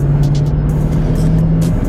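A 2019 Chevrolet Silverado 2500HD Duramax Z71 diesel pickup accelerating from inside the cab, a steady loud low engine drone with no voices.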